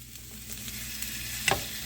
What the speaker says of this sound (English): So we're just going to start off with frying up some sausage.